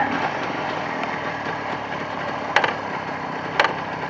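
A Jawa 634 motorcycle engine idles with a steady, moderately close mechanical hum, broken twice by short sharp knocks.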